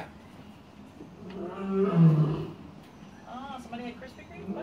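A deep lion roar at Atlanta Zoo swells and fades in the middle, heard at a distance over crowd chatter and background noise.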